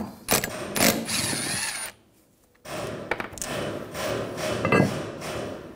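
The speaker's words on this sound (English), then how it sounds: "Use a 7mm hex socket. Take these caliper pins out." Caliper pins on a 2004-2009 Audi A4 Quattro front brake are loosened with a 7mm hex socket, producing close metallic clicks, ratcheting and clanks in bursts, with a short quiet gap in the middle.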